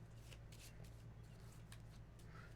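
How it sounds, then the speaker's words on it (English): A deck of playing cards is shuffled close up, a faint, papery riffle with a few sharp flicks over a steady low hum. "shuffle it into my deck in hand"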